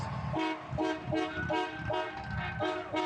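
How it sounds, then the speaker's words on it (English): Horns honk in a steady, repeating pattern of short blasts, loud and continuous, like a line of vehicles sounding off together. "You can hear the honking behind me, Elizabeth."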